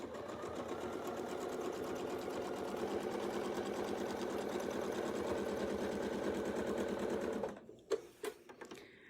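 Sewing machine stitching a quilt, a close steady rapid mechanical whir and chatter for about seven seconds that then stops, followed by a few handling clicks and thumps.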